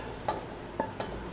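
Sautéed vegetables being stirred into beaten eggs for an egg and cheese casserole: three brief, soft clinks and scrapes of a utensil in the bowl, spaced apart over a faint steady background.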